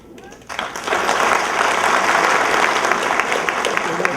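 Loud, sustained applause from a live audience for a performer, starting abruptly after a brief quiet moment and continuing steadily with dense clapping throughout.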